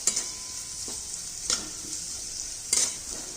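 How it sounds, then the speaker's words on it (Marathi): Onion sautéing in a pan with garlic paste for egg curry, a steady hiss of frying punctuated by three sharp bursts as the pieces are stirred and tossed. "लहान होईपर्यंत आपण इथं कांदा परतून घेणार आहोत"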